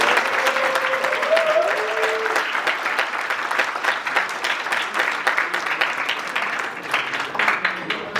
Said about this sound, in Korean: 여러분 70주년 참석한다는 의미에서 크게 박수 한번 부탁드립니다